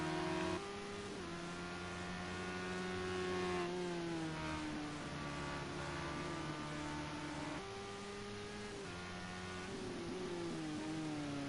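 Radical SR3 race cars circle Laguna Seca in close formation, high-pitched engines wailing continuously, pitch dipping and climbing with each gear change and corner, loud and sustained.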